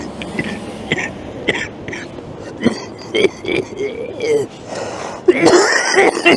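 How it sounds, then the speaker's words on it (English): A man who has been ill for about two weeks coughs several times, short harsh bursts close by, mixed with throat sounds and some talking out in town. "That's not a smoker's cough."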